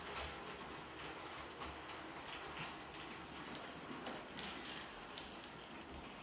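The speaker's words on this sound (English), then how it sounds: "As you can see the train come round the corner." Model railway train running round a corner of a layout, a continuous rumbling clatter with rhythmic wheel clicks at steady volume, close and unbroken by speech.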